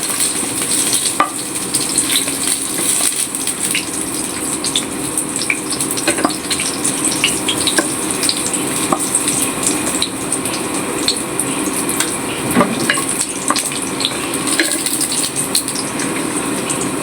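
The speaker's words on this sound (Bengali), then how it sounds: "বড়িটা ভাজা হয়েছে" Lentil bori, dried black-gram dumplings, frying in hot oil in a home kitchen, giving a steady close sizzle with scattered pops and crackles throughout, no talking.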